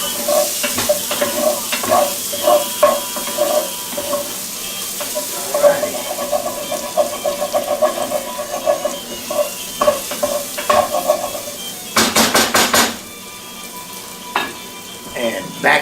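Pork fingers fry in olive oil in a pan, giving a steady close sizzle with stirring scrapes and clinks throughout, plus a brief louder burst of crackle near the end.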